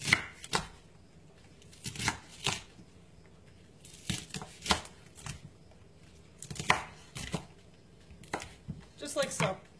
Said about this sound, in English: I've got my big knife. I'm just going to slice through them.